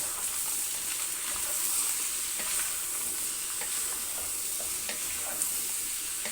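Meat frying in a pan while being stirred, a steady bright sizzle throughout with soft scraping stirs and occasional small pops, close and continuous without talk.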